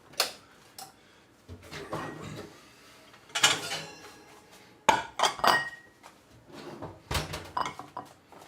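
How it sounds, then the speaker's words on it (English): Hot plates come out of an oven at a home stove, making a scattered run of clinks, clatters and bumps of dishes and metal. The sounds are near and uneven, with short gaps, and nobody talks. "Get the plates out of the oven this time."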